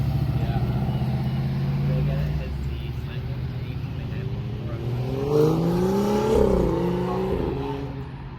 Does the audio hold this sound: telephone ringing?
no